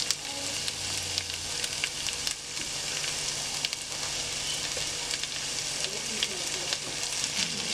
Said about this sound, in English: Throw my onions in.